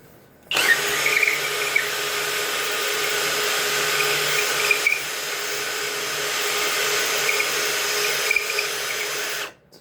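A Flex FX1151 drill driver bores into wood in one steady, loud whirring run of about nine seconds, with small load changes along the way and no talking.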